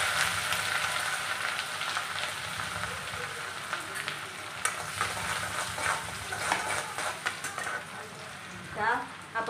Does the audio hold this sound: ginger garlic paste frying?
yes